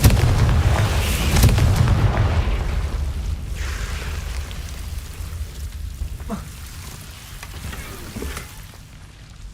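A Confringo fire-blast spell exploding in Hogwarts Legacy, a loud rumbling burst that swells and slowly decays into a lingering roar.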